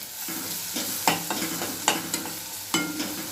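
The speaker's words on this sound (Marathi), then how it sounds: "छान परतले आपला कांदा" Sliced onion stirred and sautéed in a pan with a little red chili powder over lowered heat, giving a steady soft sizzle broken by several sharp scraping clacks of the spoon against the pan, close and without talk.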